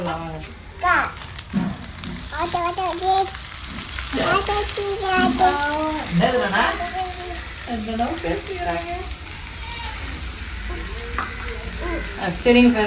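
Ginger, garlic and tomato sizzle in a pan beneath a child's chatter, the steady frying hiss broken by stirring scrapes, with talking over most of it.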